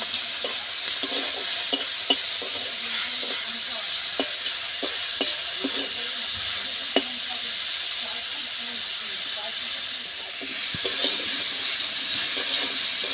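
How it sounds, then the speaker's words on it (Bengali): Shrimp coated in turmeric and salt fry in leftover potato-frying oil in a pan, giving a steady, close sizzle with scattered crackles and occasional stirring scrapes throughout. "এই আলু ভাজার তেলে চিংড়ি ভেজে নেব"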